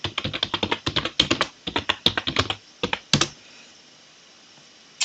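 Rapid bursts of keystrokes on a computer keyboard as a password is typed, crisp and close, then a pause and one final tap.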